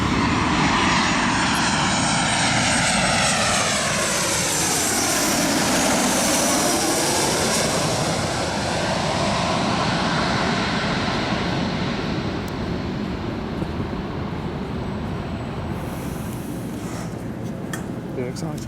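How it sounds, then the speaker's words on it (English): A fixed-wing airplane comes in to land at LAX, its engine roar rising and falling as it passes with a sweeping pitch shift, loud and sustained throughout, with a few faint background sounds near the end. "there is a plane coming in apparently"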